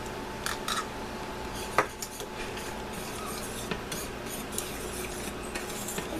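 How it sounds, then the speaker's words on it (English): A spoon stirs a glaze of soy sauce, honey and olive oil in a bowl, giving faint, steady scraping and light clinks of utensil against the dish, with one sharper knock early on. "Give that a good stir"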